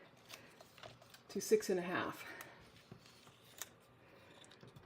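Paper is cut to 6 1/2 for a Meant To Bee scrapbooking kit, giving a short cluster of crisp cutting and rustling sounds in the middle while someone talks.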